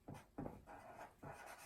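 Pen or pencil writing on paper, four short scratchy strokes in a loose rhythm, quiet and close with no voice.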